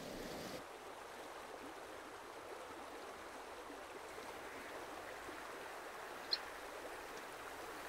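Mountain river or stream in a dense conifer forest, a faint, steady broadband rush of flowing water, distant and unbroken.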